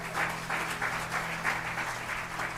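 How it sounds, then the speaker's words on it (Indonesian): Congregation applause during a Sunday church service, a steady wash of many hands clapping in an indoor sanctuary, sustained and even with a faint low hum beneath. "Kita berikan tepuk tangan buat Tuhan."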